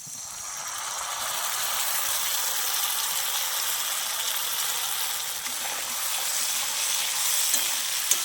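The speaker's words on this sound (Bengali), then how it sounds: "এর মধ্যে এবার কাজু বাদাম আর পোস্ত বাটাটাকে দিয়ে একই সঙ্গে ভেজে নেব।" Cashew nuts and poppy seed paste fry with spices in a pan, making a steady, loud, hissing sizzle that runs unbroken from start to finish.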